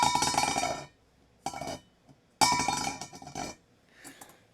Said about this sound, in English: And dropping works too, and so we can get some good dropping sounds.